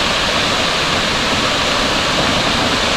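Strong wind roars steadily outdoors in autumn mountains near a waterfall trail, a loud, constant broadband rush with no pauses.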